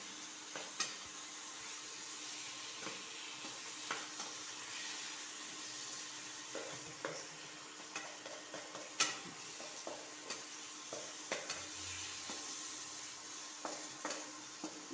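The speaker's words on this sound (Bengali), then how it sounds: "দিয়ে আলুটাকে মশলার সাথে ভালোভাবে মিশিয়ে নেব" Fried potatoes stirred into a sizzling spice masala for a home-style aloo dum, giving a steady hiss with scattered scrapes and clinks from the spoon in the pan, and no voices.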